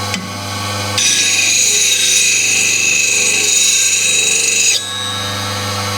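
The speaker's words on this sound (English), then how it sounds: "just sharpen each side until it's done" Hope Threepoint woodturning tool being sharpened on a sharpening block, a loud, steady high-pitched grinding hiss lasting several seconds over a constant low motor hum, then dropping back to the hum alone.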